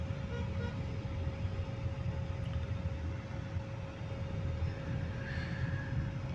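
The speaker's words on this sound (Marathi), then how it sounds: "लय ट्रॅफिक लागली इथं" Low, muffled engine rumble from cars and trucks in a road traffic jam on the way to Shirdi, a constant, even drone heard from inside a vehicle with no voices.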